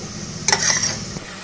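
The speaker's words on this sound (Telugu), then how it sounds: "ఇవైతే ఆయిల్ పైకి వచ్చేంత వరకు కూడా మగ్గించుకోవాలి." Onions and two spoons of chili powder sizzle and are stirred in hot oil for a paneer cashew curry, a brief close burst of frying and scraping with no talk.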